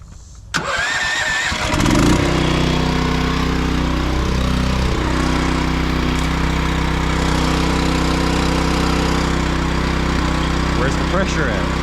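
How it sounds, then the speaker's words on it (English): Small Honda-type pressure washer engine catching and settling into a steady, loud running drone with harmonic hum, close by, continuing throughout while water sprays during power washing. "So you get to be with me while I power wash it."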